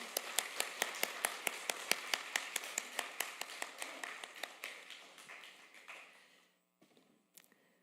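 A congregation at a Korean church's afternoon praise service claps in steady unison, about twenty crisp even beats, soft and slightly distant, before tapering off near the end with a few stray sounds.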